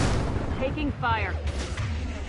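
Gunfire in Mass Effect 2, a continuous barrage of shots with a low rumble beneath, while voices talk over the combat.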